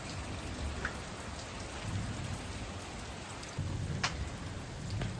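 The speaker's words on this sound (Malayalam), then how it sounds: "വർഷക്കാലത്ത് വെല്ലുന്ന അടിപൊളി മഴയാണ്." Steady heavy rain patters on a surface in Malappuram, Kerala, with faint low rumbles of distant thunder and a few sharp drips standing out.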